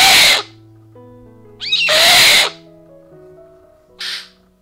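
Birds of prey at outdoor aviaries give three loud, harsh squawking calls separated by short pauses, close by, with a low hum in the background.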